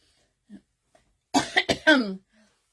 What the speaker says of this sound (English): I'm still having trouble with coughing